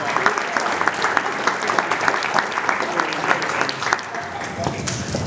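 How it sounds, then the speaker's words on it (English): A dense, continuous round of clapping from an audience at an author event in a cultural arts center, holding steady from start to end. "Let's give those folks a real big round of applause."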